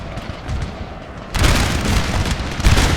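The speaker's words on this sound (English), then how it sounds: "There's some artillery hits." Artillery shells strike the battlefield in Napoleon: Total War, a dense, rumbling barrage of booms that swells sharply partway through and keeps pounding, loud and continuous with no voices.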